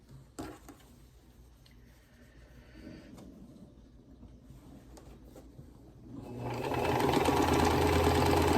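A sewing machine, freshly oiled, starts quietly, then revs up into a loud, steady, fast whirring hum for the final couple of seconds.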